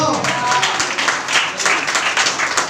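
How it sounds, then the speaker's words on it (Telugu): A church congregation at an all-night deliverance prayer meeting breaks into brief, dense clapping and applause, mixed with a voice speaking over it. "చప్పట్ల కొట్టు"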